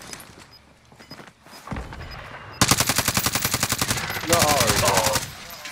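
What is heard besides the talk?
gunfire in a video game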